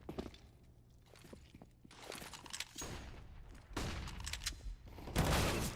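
Pistol gunfire in a competitive video game match, with several sharp shots spread through the clip, some in quick clusters, over game noise, busier and louder toward the end.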